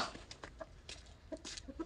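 Soft, scattered clucking from a few chickens nearby, short irregular calls over a quiet background.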